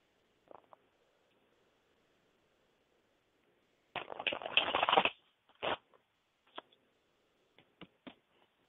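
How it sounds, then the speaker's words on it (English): Tarot cards riffle and flick together in a quick burst, followed by a few soft taps and snaps, faint and close with otherwise quiet surroundings. "Hang on, let me shuffle real quick."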